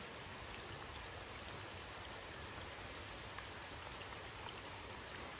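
Steady rain falling over a small creek where smallmouth bass are fished, an even wash of drops and flowing water with no breaks and no voices.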